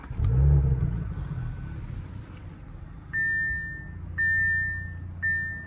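A 2018 Audi B9 S5 coupe starts up with a brief deep rumble that settles into a low, steady idle. Three short, clear electronic chime beeps repeat over it in the second half.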